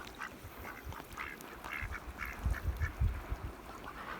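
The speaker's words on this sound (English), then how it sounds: "Local ducks in the pond." Domestic ducks on a pond quack repeatedly at a moderate distance, the calls coming in loose bursts over soft outdoor background noise.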